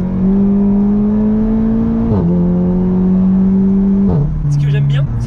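A 384 hp Seat Leon Cupra with a dual-clutch gearbox pulls hard from low revs in third gear, its engine drone rising steadily inside the cabin, with two quick gear changes, loud and close throughout.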